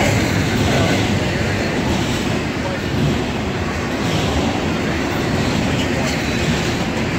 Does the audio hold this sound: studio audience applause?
no